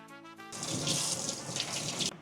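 Cold tap water runs in a thin, steady stream into a sink while a bluefish is cleaned, a continuous close splashing hiss that starts suddenly after a brief pause and holds level throughout.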